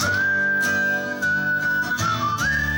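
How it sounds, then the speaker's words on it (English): A clear, sustained whistled melody holds long notes with a few pitch shifts, over a musical backing with soft rhythmic accents. "whistling"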